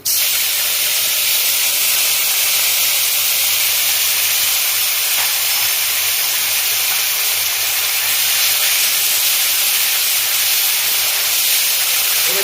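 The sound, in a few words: onion paste added to hot oil for tilapia curry, sizzling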